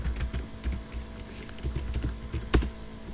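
Keys clatter on a computer keyboard during a WordPress installation on localhost, a quick uneven run of close, crisp clicks with a sharper stroke near the end.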